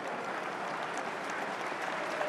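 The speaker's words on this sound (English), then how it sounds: "sympathetic applause from the Queen's Park Rangers fans as well as those from Millwall" Fans at a Queens Park Rangers versus Millwall Championship football match applaud in a steady, distant wash of clapping that sounds soft and continuous across the stadium, with no commentary over it.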